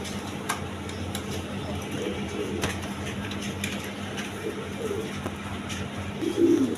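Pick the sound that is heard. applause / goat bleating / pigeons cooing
pigeons cooing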